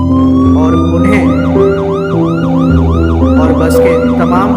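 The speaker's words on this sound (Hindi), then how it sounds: "आसपास के लोगों ने तभी एम्बुलेंस बुलवाई" A loud ambulance siren wails close by in a rapid rising and falling pattern, accompanied by a steady two-tone horn-like drone underneath.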